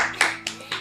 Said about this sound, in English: Gotta clap it up for Miyata